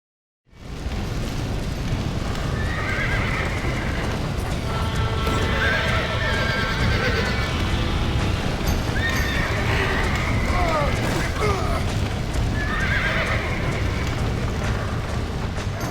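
Horses in Red Dead Redemption neigh and whinny repeatedly over a steady thunder of galloping hooves, loud and close, with a low rumbling backdrop running throughout.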